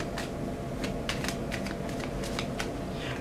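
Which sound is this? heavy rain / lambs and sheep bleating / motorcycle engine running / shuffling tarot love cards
shuffling tarot love cards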